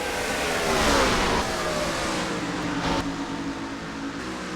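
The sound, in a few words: race cars racing in NR2003 video game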